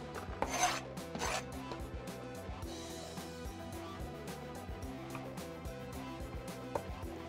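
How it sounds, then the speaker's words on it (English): A cutting board is scraped and wiped clean during food prep, giving rough rasping rubs with a couple of louder strokes near the start, set against a steady tonal background and no talking. "And then I'm going to clean off our cutting board again."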